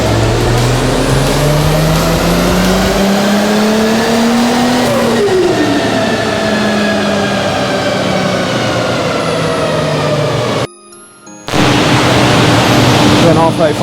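Loud, close tuned car revving hard on a dyno at a performance shop in Dubai, engine pitch climbing steadily through the gears with whining harmonics, cutting out for a brief moment and then roaring back.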